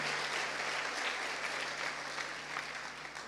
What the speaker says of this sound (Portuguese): aplauda o Senhor pela vida dessas pessoas